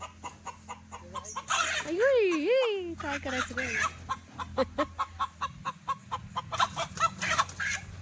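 A rooster clucks repeatedly in quick, rhythmic bursts with a loud rising call, up close, while a person speaks briefly.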